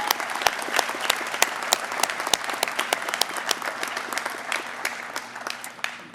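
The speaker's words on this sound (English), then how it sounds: "Can you give him a round of applause?" At a fire academy graduation ceremony, an audience applauds the fire chief with dense, sustained clapping, several sharp individual claps standing out near the front as the applause slowly tapers.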